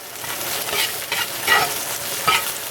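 Eggs frying in oil in a pan for a scrambled omelet, a steady crackling sizzle with brighter spitting bursts and utensil scrapes, close and fairly loud with no talking.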